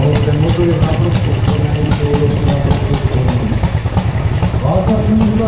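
A vintage tractor engine idles at a show of old tractors and heavy machinery, a loud, close, steady rumbling chug that runs unbroken throughout.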